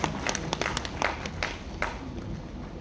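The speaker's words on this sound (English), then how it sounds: "Please give a big round of applause." Scattered, fairly faint hand claps from an audience at an academic session welcoming speakers, a few uneven claps over a steady room hum.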